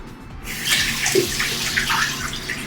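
A frosting bowl rinsed under a running tap, heard as a steady close splash and hiss of water that starts abruptly and keeps flowing, with no one talking.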